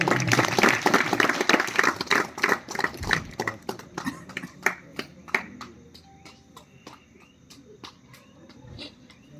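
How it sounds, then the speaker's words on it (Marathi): An audience at a comedy gathering held for a saint's commemoration in Girad applauds: loud, dense clapping for the first few seconds that thins into scattered individual claps and fades. "जोरदार टाळ्या वाजव"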